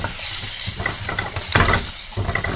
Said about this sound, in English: we're going to go ahead and add our onions in and mix them in